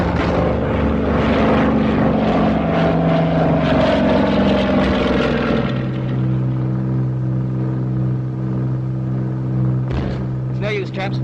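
A 1942 twin-engine bomber's engine roars loudly through a steep dive, a droning propeller tone that drops in pitch partway and settles into a lower steady hum, with brief voices near the end.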